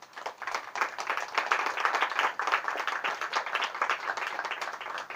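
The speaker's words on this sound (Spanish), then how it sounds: "nos podamos recibir con un aplauso todos en este espacio maravilloso" An audience at an outdoor poetry event gives a welcoming round of applause, a continuous, moderately loud patter of many hands that swells slightly and holds steady.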